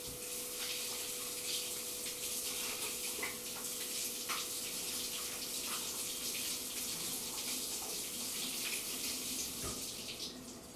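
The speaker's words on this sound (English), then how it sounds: "I'm going to rinse this off because I see some dirt and I don't want dirt in my juice" Tap water runs steadily as ginger root is rinsed under it at a sink, a soft, even splashing hiss with faint clinks, continuous and fairly quiet.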